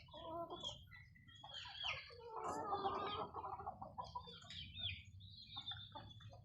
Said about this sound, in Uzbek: Adlerskilarimiz hammasi yirik xo'roz makonlar.